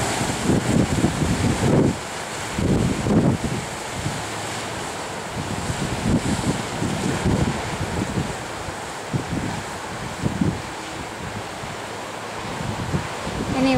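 Ocean surf rolls onto a Maui beach in the wind. Waves break and wash in repeatedly, rising in several rushing surges over a constant gusty wind roar that buffets the microphone.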